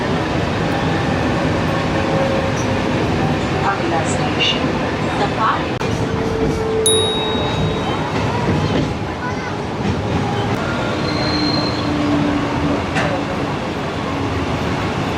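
A Virar–Dahanu slow local train runs along at steady speed, a loud continuous rumble and rattle of the coaches with occasional squeals, heard from inside, with faint voices beneath.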